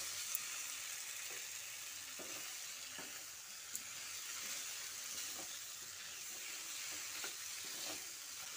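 Boiled jackfruit and potato being stirred with spices in a hot pan, a soft continuous sizzle with occasional faint spoon scrapes, fairly quiet and steady.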